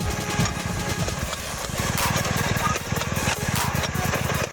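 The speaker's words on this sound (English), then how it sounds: "An automated seeder is sowing seeds in a field." An automated seeder sowing seeds in a field runs with a loud, steady mechanical engine drone and a fast, regular low thumping pulse throughout, with no voices.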